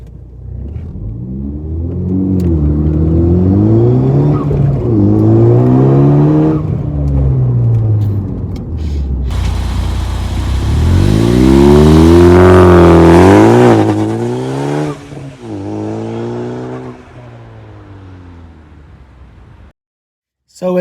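A Ford Focus ST with a limited-slip differential pulls away from about 2,000 RPM with traction control on, its engine rising loud and close in several climbing revs and gear changes before settling.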